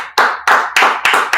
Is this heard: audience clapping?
yes